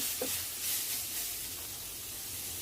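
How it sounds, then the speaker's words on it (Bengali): Yardlong beans fry in oil in a pan, a soft, steady sizzle and hiss with faint stirring sounds near the start, fairly quiet throughout. "তেল দিয়ে বরবটিগুলোকে ভেজে নিব।"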